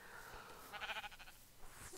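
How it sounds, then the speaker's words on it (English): Sheep bleating in a Minecraft-style video game, a single faint wavering bleat in the middle of a quiet stretch. "Let's go kill some sheep."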